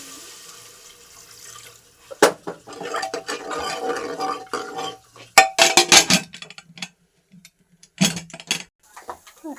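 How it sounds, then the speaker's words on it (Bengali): Tap water running while rice is rinsed in a kitchen sink, a splashing stream interrupted by sharp knocks and clatters of the pot and grains being swished. "চালটা এখন আমি ধুয়ে পরিষ্কার করে নেব"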